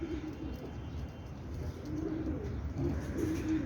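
A main breeder pair of Neela Kamanger pigeons coo softly and continuously nearby, with low, throaty, rolling calls rising and falling over a steady background hum.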